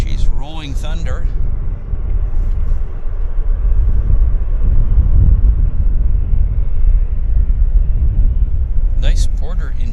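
Heavy jet aircraft taking off at Vancouver International Airport, a loud sustained roaring rumble building through the middle, with voices talking at the start and end.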